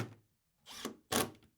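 Power drill pre-drilling holes in a melamine cabinet side for SlimFIT soft-close drawer slides: a faint first touch, then two short close-up bursts of drilling, each under a second, separated by a brief pause.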